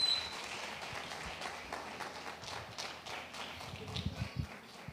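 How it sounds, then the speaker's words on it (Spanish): A church congregation claps for the Lord in a moderate, steady round of applause with some louder thumps near the end, no voices over it. "denle un fuerte aplauso al Señor"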